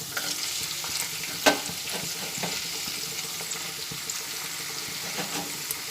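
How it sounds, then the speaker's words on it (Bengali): Cashews and raisins fry in hot oil in a pan, giving a continuous close sizzle with scraping stir strokes and one sharp clatter near the start, no talk. "এই যে তেলটার মধ্যে আমি কিছুটা কাজু বাদাম আর কিশমিশ দিয়ে ভেজে নিচ্ছি"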